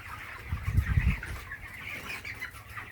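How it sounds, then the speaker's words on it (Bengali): A chicken with a cold clucks on a poultry farm, a short burst of low, throaty clucks near the start, then fading into soft farmyard background. "আর একটা মুরগি কক কক করছে, ঠান্ডা লেগে আছে"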